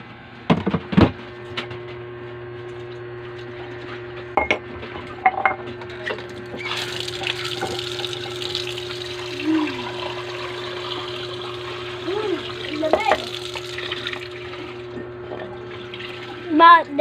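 Water being fetched, with a steady trickle of running water and occasional clinks of dishes and utensils, while people talk nearby.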